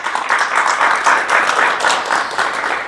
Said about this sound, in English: Another round of applause for Sunny Boy